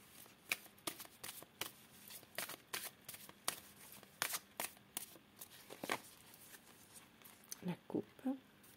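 Tarot cards being shuffled and cut, a quick run of crisp riffling slaps and flicks close up, ending with a few softer taps; no one talks over it.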